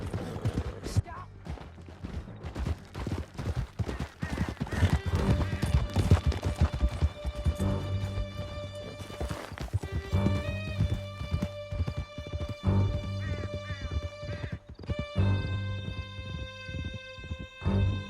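Horses gallop at full speed through a canyon in Red Dead Redemption 2, steady drumming hoofbeats throughout, loud and close, mixed with game music, neighs and shouted voices.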